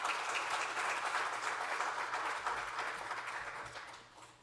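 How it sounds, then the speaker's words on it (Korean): An audience applauds at a church vision proclamation ceremony, a dense, steady wash of clapping that holds for several seconds and then fades out, with no voices over it. "박수로 함께 하겠습니다."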